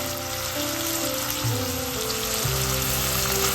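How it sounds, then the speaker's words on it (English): Onions, garlic, ginger, green chilies and curry leaves sauté in a pan for a Kerala okra mappas, a steady close sizzle and crackle running throughout with a low hum beneath. "The onions we just added. No need to turn into golden brown and all. You have to just saute."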